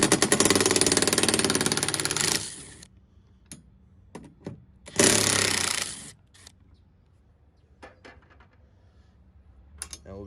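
A cordless impact wrench with a 12mm socket zips off the roof rack mounting bolts on a 2010-2021 Toyota 4Runner, two loud rattling bursts of about two seconds each, separated by quiet clicks and handling noises.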